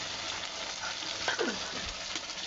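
Onion paste goes into a hot pan for a fish roast, giving a steady moderate sizzle with faint stirring scrapes throughout.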